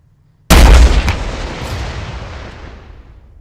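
A single loud explosion from a military video game hits sharply and close, its deep boom rolling off into a long fading rumble.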